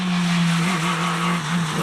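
A Peugeot 306 Maxi rally car at a Tredegar rally stage gives a loud, close, sustained engine note with tyre scrub, steady and strained across the short stretch.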